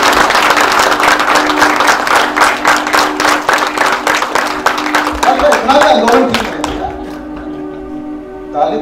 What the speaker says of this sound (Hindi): दिनेश जी, कुछ लोग तालियां बजाने में भी